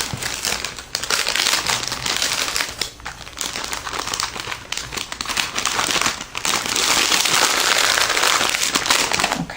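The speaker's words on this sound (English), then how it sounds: "Again, I'm really sorry for the crinkling sound." A plastic bag crinkles and crackles loudly and almost continuously, up close, as craft supplies like ribbon and trim are folded and stuffed into it, with only brief pauses.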